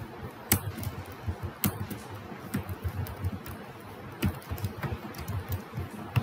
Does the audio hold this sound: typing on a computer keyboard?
yes